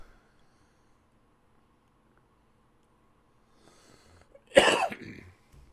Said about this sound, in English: Sorry I just coughed in everybody's ear.